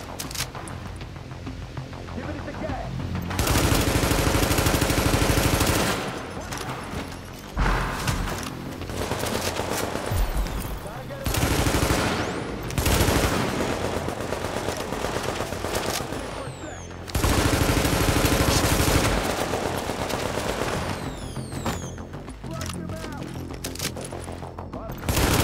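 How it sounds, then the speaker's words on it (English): Shotgun gunfire rips through a firefight in The Division video game. Loud, close bursts of shots come in long rapid volleys, with brief lulls between them. "one of them is using a shotgun"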